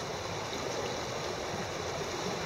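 A strong river current rushes steadily past a Drascombe Drifter 22 boat anchored in the river mouth at Thurso, giving a dense, continuous watery hiss and gurgle with no voices.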